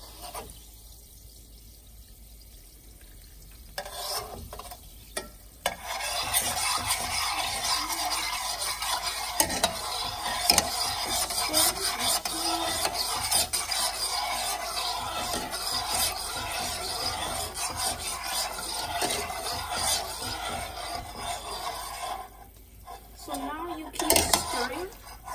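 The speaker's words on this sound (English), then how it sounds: "now we start boiling it until the liquid turns yellow" Sodium acetate solution boils in a pot on the stove with a steady sizzling hiss while a utensil stirs and scrapes against the metal, clinking now and then, near and continuous for most of the stretch.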